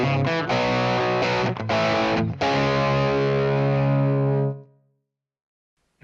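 A heavily distorted electric guitar through a Brit 800 (JCM800) amp model rings out loud chords with a couple of quick breaks, then lets the last chord sustain and fade to silence.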